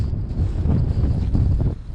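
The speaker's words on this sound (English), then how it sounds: "It is very windy." Strong wind outdoors beside a Fendt tractor, roaring and buffeting against the microphone in loud, uneven gusts throughout, with no voices.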